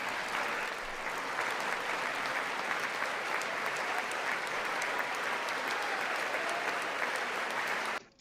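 A large crowd at a State of the Union address applauds in a dense, sustained wash of clapping that holds steady for several seconds before cutting off abruptly.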